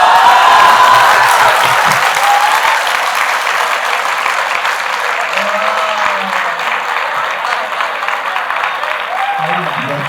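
A live audience at a Hindi comic poetry show (kavi sammelan) breaks into sustained applause and cheering, loud and dense, with some laughter and voices mixed in.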